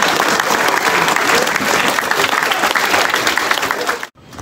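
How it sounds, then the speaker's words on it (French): Loud, dense applause for a coach rises from a crowd of collège students meeting sports champions in Charny. The clapping runs strong and continuous, then cuts off abruptly near the end. "je voudrais qu'on applaudisse le coach."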